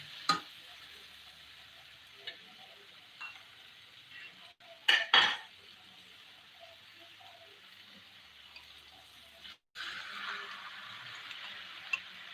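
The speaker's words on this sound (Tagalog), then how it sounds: "ilagay na yung itlog kasi luto na siya" Eggs being stirred into sautéed sayote in a pan: utensil scrapes and clinks against the pan with a few sharp metallic knocks, over a steady sizzling hiss, close by.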